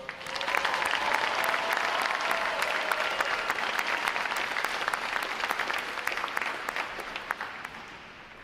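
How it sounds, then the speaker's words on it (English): Crowd applause at a Navy recruit graduation ceremony, a dense, sustained wash of clapping from a large audience that holds steady for several seconds and then gradually thins toward the end. "How about a round of applause for them, folks?"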